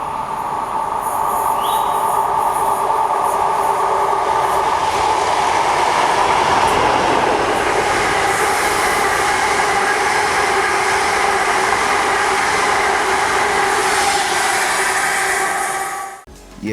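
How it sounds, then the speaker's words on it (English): A Class 37 diesel locomotive rumbles steadily past at moderate distance in London, a continuous mechanical drone with rail noise lasting throughout before fading abruptly at the end. "we spotted a Class 37 clagging past too."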